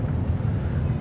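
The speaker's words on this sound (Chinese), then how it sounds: "起飞了，起飞了呀！" A Qatar Airways airliner takes off on a flight to Doha, its engines a steady, loud low roar that fills the cabin without a break.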